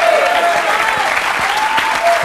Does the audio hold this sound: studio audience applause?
yes